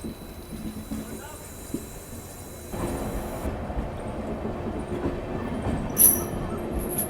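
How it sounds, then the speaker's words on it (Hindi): An express train pulls out of platform 4 at Ajmer Junction, a steady rumble of wagons swelling partway through with rhythmic wheel clatter, heard close alongside faint station background. "फिलहाल अपनी ट्रेन लगभग 57 मिनट रुकने के बाद डिपार्ट कर रही है अजमेर जंक्शन के प्लेटफॉर्म नंबर"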